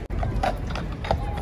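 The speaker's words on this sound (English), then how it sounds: "So we got two horses going." Two horses pulling a carriage clip-clop on pavement, hoof strikes coming in a brisk uneven rhythm, moderately close, amid street ambience.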